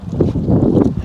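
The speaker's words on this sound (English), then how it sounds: "it's windy here because we're near a body of water" Steady gusty wind buffeting the microphone outdoors beside the River Thames at Thamesmead, London, a low rumbling roar with shifting intensity and no voices.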